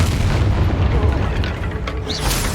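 A heavy booming blast from the Expulso explosion spell in the Hogwarts Legacy video game, a loud sustained rumbling roar filling the whole moment with scattered crackles.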